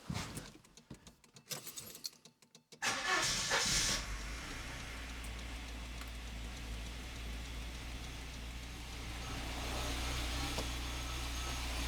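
A Volvo 945, sitting unused for seven years, cranks with rattling clicks and then catches, settling into a steady, fairly quiet idle with a low hum and soft hiss.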